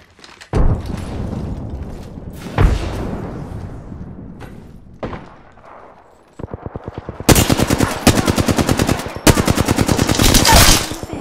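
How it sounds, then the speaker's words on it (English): Gunfire in the video game Apex Legends opens with a few single heavy shots and thuds, then gives way to loud, rapid automatic bursts firing close by in two long strings. "It's enough, I'm getting shot at."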